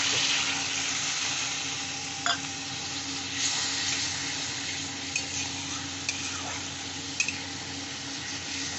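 Water poured into a pan of frying spices for a thin turmeric fish curry with black cumin and green chili, a steady sizzle with a few clinks and scrapes, no voices.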